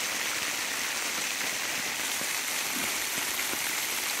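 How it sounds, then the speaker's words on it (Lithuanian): Graupel pellets patter densely and continuously onto a makeshift shelter in a forest during harsh weather, a close, even hiss with a few faint, sharper impacts. "Nu, graupelis reikia sakyti"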